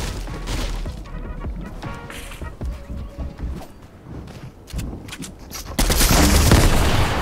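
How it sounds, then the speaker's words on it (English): Grenade launcher fire in a video game, a run of sharp, loud impact bangs and crashes scattered irregularly across the clip, building to a heavy roaring burst near the end. "he's got a grenade launcher"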